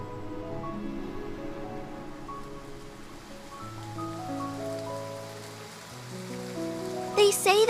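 Rain falls steadily in the Love and Deepspace video game, a soft patter under gentle sustained music, ending with a brief bright chime.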